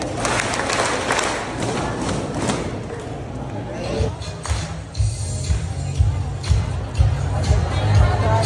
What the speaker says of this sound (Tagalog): Tatlong palakpak, tatlong badya.